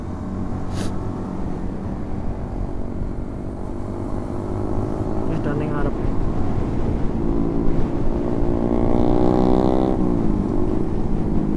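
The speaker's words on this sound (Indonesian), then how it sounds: "19 atau 20 motor." A large group of roughly 19 or 20 motorcycles rides past on a misty mountain road near Dieng, a steady mix of engine drones swelling louder toward the end as the bikes pass close.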